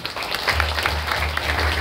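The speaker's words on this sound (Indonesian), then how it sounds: "ke 50 tahun tepuk tangannya dong" An audience claps continuously in a dense, close burst of applause at a 50th birthday celebration during a Balinese bondres comedy show, lasting briefly without talk.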